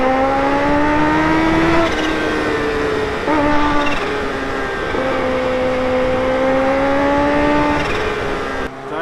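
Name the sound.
Kawasaki Ninja H2 superbike engine while riding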